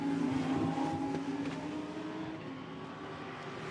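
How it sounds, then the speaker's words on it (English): A Lamborghini Super Trofeo race car accelerating hard off the banking at Zandvoort, its engine a loud, rising roar with a pass-by sweep that fades slightly as it pulls away. "Up the banking goes Leonardo Porcini, slingshots the car off it, onto the power again here."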